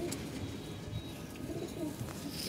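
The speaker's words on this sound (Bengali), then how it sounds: "খুবই সুন্দর কবুতর" Pigeons coo softly and repeatedly in a quiet indoor coop, low throaty calls overlapping at close range.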